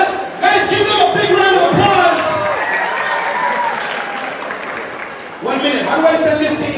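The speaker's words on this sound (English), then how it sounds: "give them a big round of applause" A crowd claps steadily for a couple celebrating their 25th wedding anniversary, with loud voices talking and cheering over the applause.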